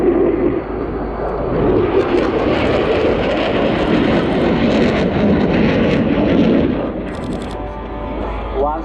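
Jet aircraft roar loudly through a crossing manoeuvre at the RIAT 2022 air show, a broad sustained rumbling thunder that swells and then eases slightly toward the end.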